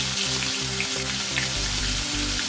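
Grated onion paste hits hot oil seasoned with half a spoon of asafoetida, for stuffed pointed gourd, giving a steady close sizzle and crackle that swells louder in the final second, with no talking.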